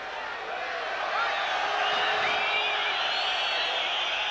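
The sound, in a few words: boxing crowd jeering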